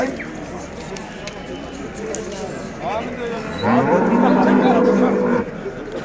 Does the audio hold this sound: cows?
yes